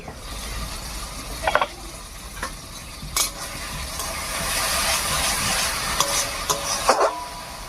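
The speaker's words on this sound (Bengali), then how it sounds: "মশলাটা কষানোর সময় মাঝে মাঝে ঢাকা খুলে একটু নাড়াচাড়া করে দেবো" Spice masala for a prawn curry is stirred in a pan, giving a steady close sizzle with a few louder scraping strokes of the spoon spread through it.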